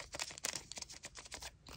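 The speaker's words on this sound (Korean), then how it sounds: "이게 슬리브가 얇은 슬리브거든요? 바삭 소리 들리세요?" A thin plastic trading-card sleeve crinkles as it is rubbed between fingers, giving quiet, close, rapid crackling bursts in quick succession.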